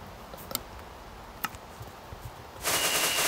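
Fireworks in Minecraft: a few sharp, isolated pops spaced apart, then a sudden burst of bright crackling hiss near the end, fairly faint overall.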